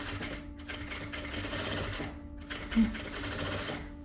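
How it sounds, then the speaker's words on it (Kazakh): Sewing machine stitching the shoulder seam of a vest, a steady continuous mechanical whir with brief pauses near the half-second and two-second marks, close and fairly loud with no talk. "Иық жақтан тігісімізді бастаймыз."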